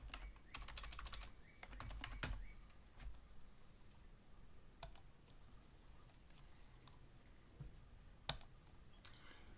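Typing on a computer keyboard, a quick burst of soft close key clicks followed by scattered single taps and clicks at a low level, no voice.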